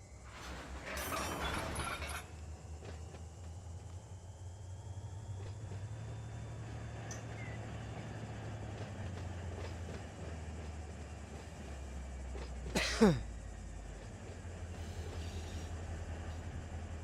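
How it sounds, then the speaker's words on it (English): Freight train couplers slacken in the Run 8 train simulator video game on a BNSF local: a steady low rumble of rolling stock, with an early burst of noise and one sharp metallic clank near the end. "come on back a little bit to release the tension on the couplers"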